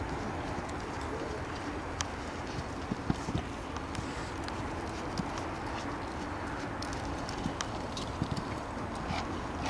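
Horse hooves clip-clopping in a show jumping arena during an equestrian clinic, a steady scatter of soft hoof beats under a constant background wash, with pigeons cooing nearby.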